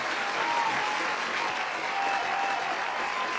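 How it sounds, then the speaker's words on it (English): Steady round of applause from a crowd, a dense even wash of clapping lasting throughout with no pauses or voices standing out. "Let me give you another round of applause for that."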